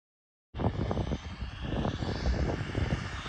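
A Jiusi PT14R RC car on a 3S LiPo pack runs at full throttle, its high-pitched electric motor whine rising from silence after half a second and staying loud and steady, with no talking.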